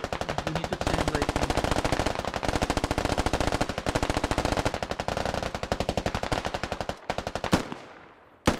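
Automatic weapons chatter in a tactical military shooter game, with a long, rapid, unbroken string of machine-gun bursts that holds steady for several seconds, breaks off, and ends with a last sharp shot.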